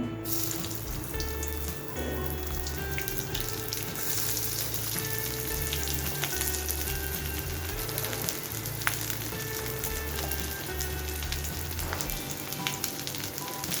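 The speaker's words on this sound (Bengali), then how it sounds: "তেলটা গরম হয়ে আসলে এর মধ্যে আমি পেঁয়াজ কুচি অ্যাড করব" Chopped onion fries in hot oil for a bottle gourd peel stir-fry, a steady close sizzle with occasional clinks and a low, repeating hum in the background.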